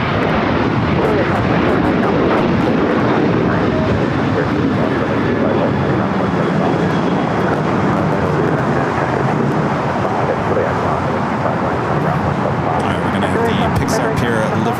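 Big jet aircraft at LAX airport rumble steadily in a loud, sustained roar that swells and fades slightly, with wind buffeting the microphone and a voice speaking over it.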